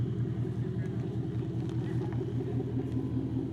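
A deep, rumbling 2021 Ford Mustang GT exhaust with a Steeda X-pipe idles and pulses steadily nearby, a low throaty drone with slight revving fluctuations throughout.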